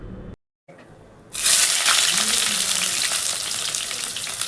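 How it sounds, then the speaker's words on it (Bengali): Bay leaf, dry chilli, whole garam masala and cumin hit hot oil for ghugni tempering, bursting into a loud, continuous sizzle after a brief silence and a short clatter. "এর মধ্যে ফোড়ন দেবো তেজপাতা, শুকনো লঙ্কা, গোটা গরম মশলা আর সাদা জিরা।"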